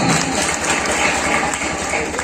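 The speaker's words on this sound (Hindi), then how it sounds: "इसके लिए जोरदार तालियां" Loud, sustained applause after a dance performance at a school academy's foundation day celebration, a continuous rush of clapping from a large audience.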